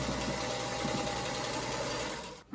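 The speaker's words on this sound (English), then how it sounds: "we are going to sew a 1/4 inch here, and then we'll have our lid once it's folded up" A sewing machine stitches a quarter-inch seam on a canning jar quilt block, running at a steady, fast, even whir from start to nearly the end before stopping abruptly.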